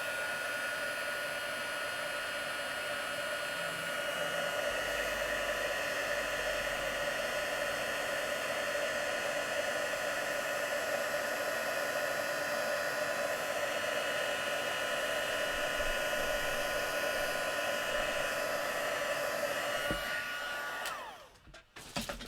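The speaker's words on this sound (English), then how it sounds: "I'm just going to heat set these so I don't contaminate them" A heat gun blows continuously to set embossing powder on a stamped card, a loud, steady whirring roar held close for about twenty seconds before it cuts off.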